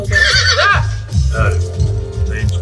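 Horse neighing in the animated film Spider-Man: Across the Spider-Verse, a loud whinny followed by clip-clopping hooves over a busy backdrop.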